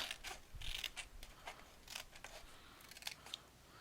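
Scissors snip through paper in a run of short crisp cuts, close and fairly quiet, while a hinge is trimmed away on a Doodlebug Hello June scrapbook album.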